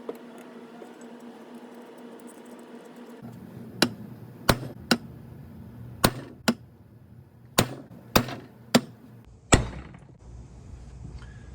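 A steering gear box part from a 1966 Jeep J3000 FSJ, a Ross manual unit, is struck to free its stuck needle bearings: about nine sharp, metallic impacts land at uneven intervals over a low, steady background hum.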